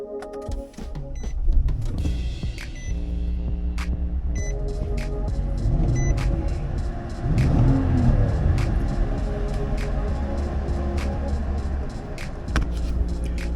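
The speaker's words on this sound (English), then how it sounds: "the truck is starting with no issues whatsoever" A 2019 Nissan Titan pickup truck's engine cranks and starts, then settles into a steady idle rumble with a brief rise in revs, heard close with some faint clicks on top.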